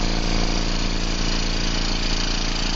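A vacuum pump draws air while stabilizing wood, giving off a steady, loud motor hum with a low, even pulsing that holds unchanged throughout.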